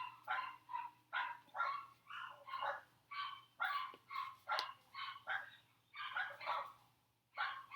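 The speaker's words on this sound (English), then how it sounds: "That's my neighbor's dog, not mine." A neighbor's dog barking repeatedly at a distance, a steady run of rhythmic barks with short gaps, heard faintly against a low background hum.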